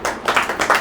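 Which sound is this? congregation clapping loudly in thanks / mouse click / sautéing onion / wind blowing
congregation clapping loudly in thanks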